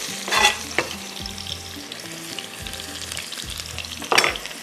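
Onion sizzles and crackles steadily in hot oil, with a couple of louder hissing surges and a low hum underneath.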